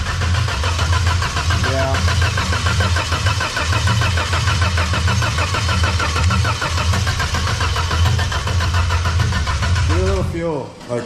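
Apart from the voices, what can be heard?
old engine cranking with oil-filled cylinders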